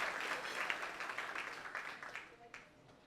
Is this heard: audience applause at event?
yes